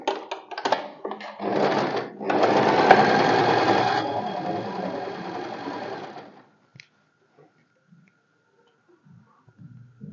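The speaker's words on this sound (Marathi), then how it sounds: "आता अर्धा इंचाने साईडने फक्त स्टिच करून घ्यायचं" A sewing machine stitches the side seam of a deep neck kurti, a few short hesitant runs and then a steady rapid stitching burst of several seconds, followed by quiet handling sounds.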